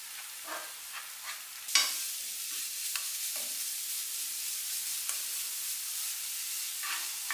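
Mushrooms and bacon stir-frying in a pan, a soft hissing sizzle with occasional spatula scrapes and one sharper clank, moderately quiet with no talking.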